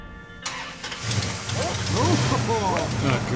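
A Dodge Charger engine cranks and catches at about one second, then settles into a loud, steady idle close by while people talk excitedly over it.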